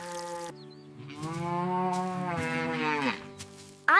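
A cow on a farm gives one long, loud, drawn-out moo at close range that rises and then falls away, heard on its own with no talk.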